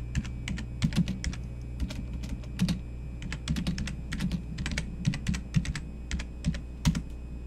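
Typing on a computer keyboard: quick irregular clusters of soft key clicks over a steady low background hum, fairly faint and close, with no voices.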